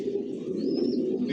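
Johnson line racer pigeons in a rooftop loft give a low, continuous throaty cooing, close and steady, with a brief higher chirp partway through.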